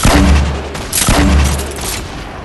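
Grenade launcher explosions in a video game, two heavy booming blasts about a second apart with rumbling low tails, loud and close, without talk.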